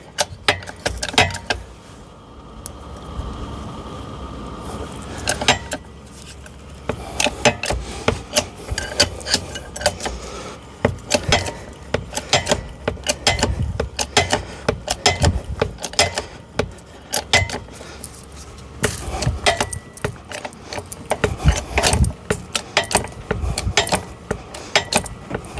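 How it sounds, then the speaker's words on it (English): A bottle jack is pumped to raise a low-profile hydraulic car ramp rated 11,000 lbs, giving repeated metallic clanks and ratcheting rasps in an uneven rhythm, close and fairly loud. "So now we're going to jack this up."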